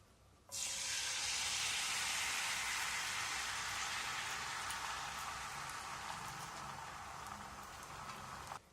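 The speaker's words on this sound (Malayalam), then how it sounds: "ഇതിലേക്ക് നമ്മൾ മിക്സ് ചെയ്ത് വെച്ചിരിക്കുന്ന മുട്ടയുടെ മിക്സ് ആഡ് ചെയ്ത് കൊടുക്കാം" Beaten egg mixture hits hot butter in a pan and instantly breaks into a loud, steady sizzle, a dense close-up hiss that holds for about eight seconds and then cuts off.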